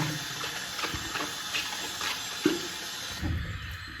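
A shaving soap puck rinsed under a running tap, with water splashing steadily for a few seconds and a brief knock partway through, close and fairly quiet, no talking.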